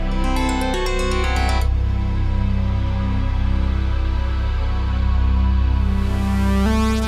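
A sustained, murky synth pad washed in echo and reverb, with low drones beneath and shimmering high tones entering and fading, steady and moody throughout.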